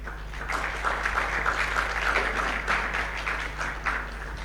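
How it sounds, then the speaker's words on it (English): A room full of people applauds for Miss Priscilla at a conference platform event, dense continuous clapping with a steady low hum underneath, holding at an even level for several seconds. "Can we also have another round of applause for Miss Priscilla?"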